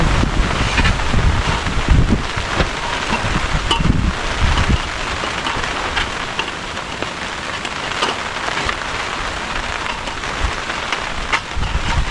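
Strong wind gusts at a lakeside campsite by San Roque Dam, a continuous roaring hiss with heavy low buffeting in the first few seconds, then a steadier rushing blow.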